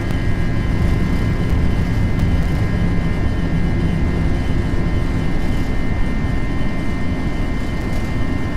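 An Airbus A320 jet takes off on a stormy night, heard from inside the cabin as a loud, constant engine roar with broadband rumble and a steady high whine throughout. No one speaks.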